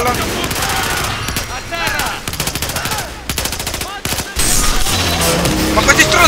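Loud, close gunfire from the video game Battlefield 4, with dense machine-gun bursts and rapid rattling volleys that break off briefly and then resume, while a voice talks in places.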